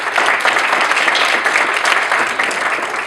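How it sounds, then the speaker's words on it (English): Dense, steady applause from an audience at an association membership meeting, a loud, continuous wash of many hands clapping for about three seconds. "give yourselves a round of applause."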